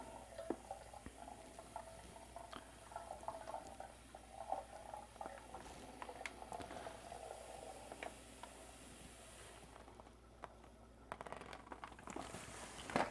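Granulated sugar pours steadily into a 6 gallon carboy for homemade lemon wine, a soft continuous hiss and patter of grains sliding into the glass vessel, close and fairly quiet with no talking.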